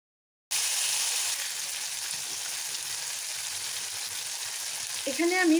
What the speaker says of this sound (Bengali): আলুগুলো একটু ভালোভাবে ভেজে নিতে হবে